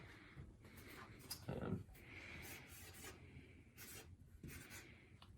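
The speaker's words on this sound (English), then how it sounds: "Let's write that in here." Pen or pencil scratching across paper by hand, a steady rubbing scrawl with short pauses between strokes, close up over a low background hum.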